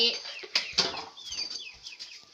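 Chickens cluck and squawk near a house in rural Thailand, with a couple of sharp wing flaps and scattered calls close by on a quiet afternoon.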